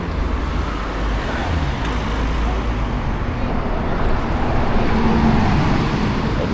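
Busy road traffic at a pedestrian crossing in Brasov, Romania, fills the scene with a continuous roar of passing cars and heavier vehicles, steady and fairly loud, with no clear gaps.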